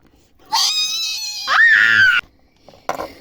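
A person screams loudly in two long, sustained, high-pitched bursts, close and piercing, followed by a short quieter vocal sound.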